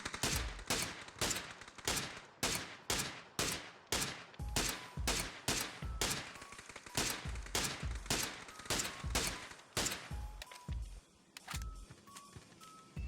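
Tap-fired gunshots in the PUBG video game, a regular series of sharp single shots about half a second apart, loud and close, with brief ringing tails.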